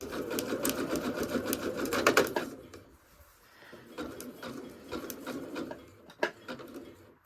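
A sewing machine zigzag-stitches around an appliqué in a rapid, close chattering burst, then pauses and gives a few shorter runs and clicks.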